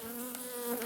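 Honey bees from a protective hive buzz in a steady, close drone with a clear hum and no voices.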